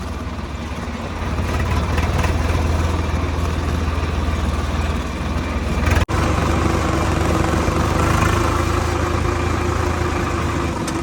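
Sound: motorcycle approaching

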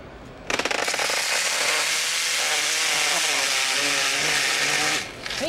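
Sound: Makita 10-inch dual slide compound miter saw cutting

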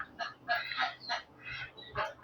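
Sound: ducks and chickens on a farm

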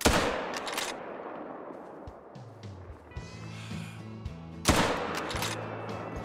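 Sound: rifle gunshots at feral goat in Call of the Wild video game

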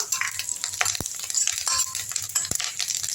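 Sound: roasting dried red chillies and curry leaves in a pan

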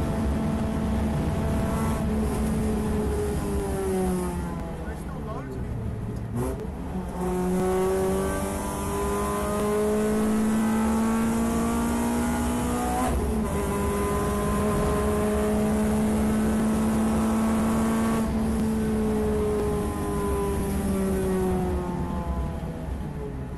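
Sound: Renault Clio Cup race car on slicks at Donington

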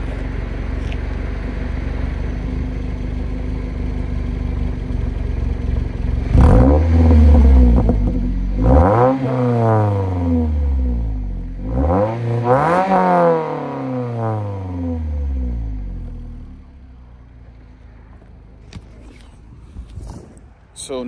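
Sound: Scion tC car exhaust with mod revving

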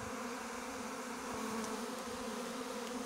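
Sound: swarm of honey bees

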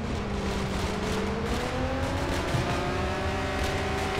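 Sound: car driving in ARMA 3 video game

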